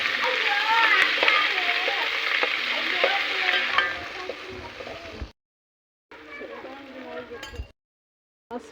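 Garlic and onions go into oil for a village-style goat tripe fry, giving a busy, close crackling sizzle with stirring. Someone talks over it, and the sound cuts out briefly twice.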